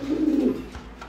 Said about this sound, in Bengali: এই পর্যায়ে দেখতে পাচ্ছেন এক পেয়ার কবুতর